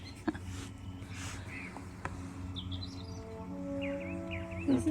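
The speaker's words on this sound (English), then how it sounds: "Why are the birds still chirping?" Several birds chirping and calling outdoors during a total solar eclipse, scattered short calls over a low steady background hum, fairly close, with people talking now and then.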